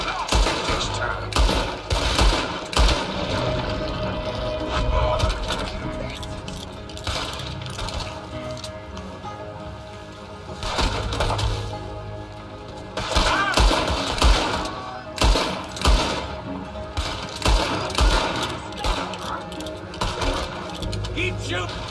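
Gunfire in Red Dead Redemption 2 rings out in a town shootout, repeated loud cracks and volleys scattered through the scene under in-game voices and background noise.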